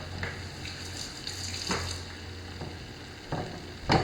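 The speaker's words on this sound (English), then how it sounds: "See the sizzle in there, get it nice and covered." Bluefish sizzling steadily in a frying pan, a constant crackling hiss with occasional louder spatters and clinks, close by and with no talking.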